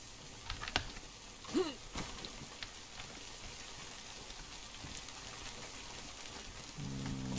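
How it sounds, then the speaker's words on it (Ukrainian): Steady heavy rain in the video game DayZ patters throughout at a moderate level, with a few scattered clicks and brief sharper sounds over the hiss. "досить великий дощ."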